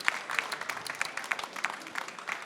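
Scattered applause from a small audience at the launch of a studio, faint and sparse, with individual claps standing out irregularly.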